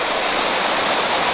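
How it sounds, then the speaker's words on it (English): A waterfall at Al Ain Zoo roars as a steady, dense rush of falling water, close and continuous without any break. "you can actually enjoy the waterfall right there."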